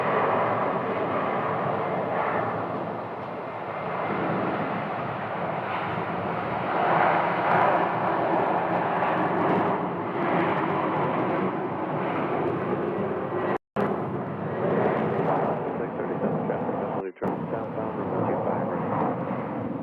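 Airliners at Phoenix Sky Harbor airport, including Southwest and Alaska jets: a continuous, loud broadband jet roar that swells and fades slightly, with a voice talking faintly underneath and two brief dropouts.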